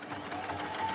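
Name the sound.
sewing machine stitching two fabric pieces together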